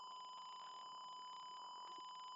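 A gas sensor pollution alarm's buzzer sounds a steady high-pitched electronic tone, continuous and fairly faint, held unbroken for a couple of seconds.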